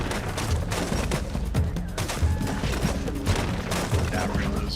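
Fire bombs burst during a tribal battle in Spore, a rapid, dense run of popping blasts and thuds that keeps going over the whole stretch, with a faint voice underneath.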